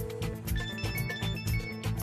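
A telephone rings with a repeated electronic trill, fairly close and steady, with no talk over it.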